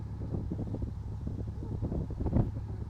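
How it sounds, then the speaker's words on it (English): Wind buffets the microphone on a narrowboat out on a Birmingham canal, a steady low rumbling roar with gusts that swell briefly near the end, with no voices. "this wind's going to be troublesome"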